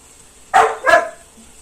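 Two sharp dog barks in quick succession, loud and close, against a quiet background.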